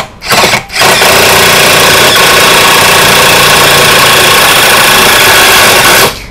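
A DeWalt impact driver used for driving roofing screws runs loud and close, cutting in and out twice at the start, then holding a steady buzzing, hammering whir for about five seconds before stopping.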